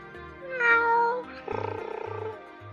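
A pet cat twining around someone's ankles while they dress, meowing loudly for attention: a few drawn-out, rising meows close by, with no talking.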